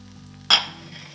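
Jalapenos hitting a hot cast iron pan with a sudden loud hiss of sizzling that flares up and then settles into a softer, steady crackle over a faint low hum.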